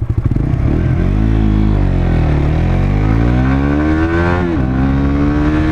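Suzuki GSX-S 125 motorcycle engine pulling hard through rising revs, loud and close, with one brief dip as it shifts before climbing again; no voices.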